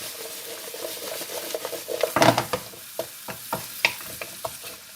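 Chopped carrots and apple chunks are stirred and turned in a sizzling pan for a vegetable stir fry, with soft frying hiss and a series of scraping, clattering stirs that grow louder near the middle.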